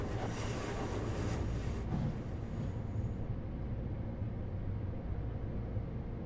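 A Long Island Rail Road train in Train Sim World rumbles through a tunnel, a steady, dense roar with a hissing high-end wash that fades partway through, continuous and fairly close.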